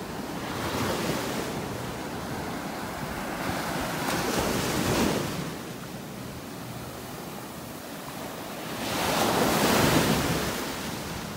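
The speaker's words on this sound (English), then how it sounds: "I love the sound of the waves." Ocean waves break and wash up a beach in North Naples, Florida in slow surges, with the loudest crash near the end and steady wind noise underneath.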